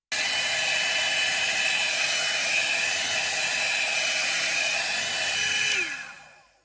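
Hair dryer blowing steadily on painted denim fabric, a loud continuous whoosh and whine that runs for several seconds, then switches off and winds down with a falling pitch.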